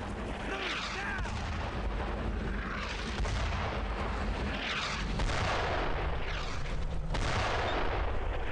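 Mortar fire in the World War II video game Brothers in Arms: Road to Hill 30 sounds as repeated heavy booms with whistling sweeps roughly every two seconds, loud over a rumbling battlefield.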